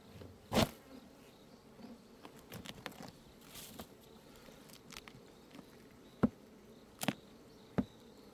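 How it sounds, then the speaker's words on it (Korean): Honeybees around a weak beehive make a faint, soft buzzing close by, broken by a few sharp taps and clicks from the hive. "얘네들은 바깥쪽으로 벌이 좀 있습니다."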